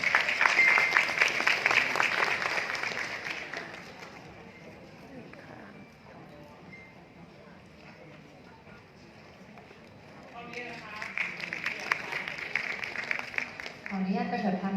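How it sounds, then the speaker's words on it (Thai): Moderate applause at a spa business ceremony rises at the start, fades under a stretch of talk, then a second round of clapping swells near the end. "ขอเสียงปรบมือด้วยค่ะ"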